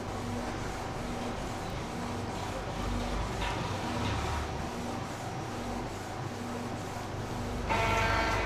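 A Canon inkjet printer prints a page, with a steady mechanical hum and repeating pulses as the carriage passes, then a louder whir at the end as the sheet feeds out.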